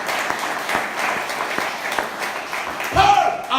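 A church congregation breaks into sustained applause, dense steady clapping throughout with a brief voice rising near the end.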